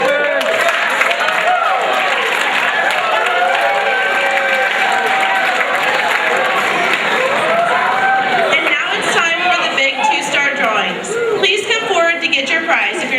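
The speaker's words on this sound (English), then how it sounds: "Would all of those 162 students who received a 2-star card please stand up for a round of applause?" Sustained applause and cheering from a large school-assembly audience as students stand, loud and continuous, with crowd chatter and voices mixed throughout.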